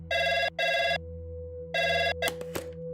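A telephone bell rings in two bursts of double rings, loud and close, with a steady low hum underneath and a few clicks near the end.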